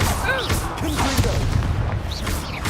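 Confringo blasts in Hogwarts Legacy during a wolf fight land as low booms and thuds amid steady battle noise, with gliding whoosh-like spell effects and no speech heard.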